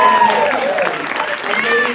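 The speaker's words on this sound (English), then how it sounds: "You have earned this applause." Applause breaks out for a priest who just finished the Hot Ones spicy wing challenge, a short burst of clapping mixed with excited voices talking over it.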